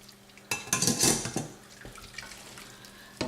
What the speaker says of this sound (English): I'm going to add the pasta and the green beans to that little mix